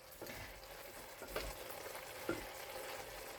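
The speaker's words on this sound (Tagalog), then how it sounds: "Yan, ginisang chicken with Baguio beans." Chicken and Baguio beans sauté in a home kitchen pan, a soft, steady sizzle broken by a few light scrapes of a stirring utensil, with no talking.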